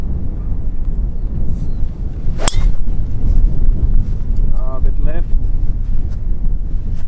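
Strong wind roars across the Alhama Signature golf course and buffets the microphone in a constant loud rush, with a brief faint chirp partway through.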